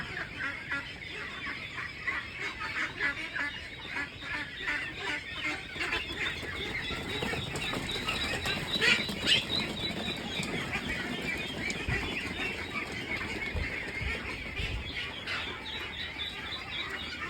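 A crowded flock of week-old meat ducks on a farm holding about a thousand birds, with soft wing flapping and constant peeping and quacking, a fairly faint continuous hubbub.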